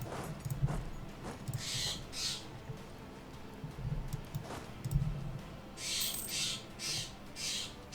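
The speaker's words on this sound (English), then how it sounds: "that's a very loud bird out there." A loud bird outdoors gives repeated harsh squawks in short bursts, some near and some further off, over a faint background with brief low knocks between the calls.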